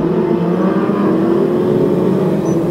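BriSCA F2 stock car engines roaring together during the final, a dense, steady drone of several cars racing on through, loud and continuous with no clear pass-by peaks and no talk.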